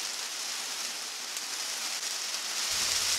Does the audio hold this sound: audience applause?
no